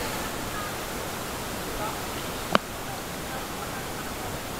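Strong river current rushes steadily through the Tinipak River, a dense, constant close-up roar of water with one brief sharp click partway through.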